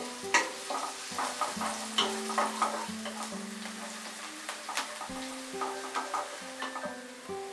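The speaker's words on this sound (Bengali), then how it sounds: "পেঁয়াজটা দেওয়ার পর আমি আরো 1 মিনিট এটাকে ফ্রাই করে নেব মিডিয়াম আঁচে।" Onions frying on medium heat for veg fried rice made with leftover rice, a soft sizzle broken by regular spatula strokes against the pan, over a low steady hum.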